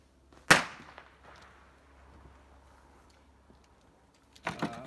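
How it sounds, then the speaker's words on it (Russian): A single sharp ceremonial gunshot cracks loudly near the start and echoes away, followed near the end by a second burst of sharp noise. "оружия будет произведен выстрел"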